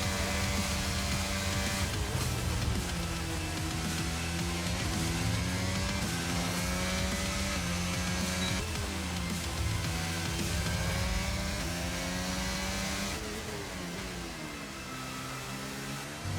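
Formula 1 cars from Alpine and AlphaTauri roar around the track in a loud, continuous engine drone with rising and falling pitch as they accelerate and shift, fading slightly near the end.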